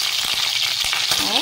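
Eggs frying in mustard oil give a steady, loud, close sizzle with a few soft stirring scrapes and no talking.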